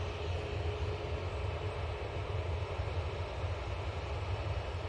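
An easyJet airliner descends to land at Manchester Airport, its engines a steady, broad roar that stays even and fairly loud throughout.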